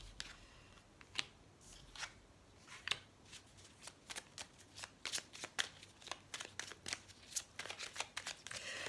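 Tarot cards are shuffled by hand in a soft, rapid flutter of riffles and slaps that grows denser toward the end, faint and close in a quiet room.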